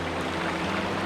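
Steady rushing of river water at a Coimbatore bathing spot, an even, unbroken wash of flow sound with a low rumble beneath, nearby and constant.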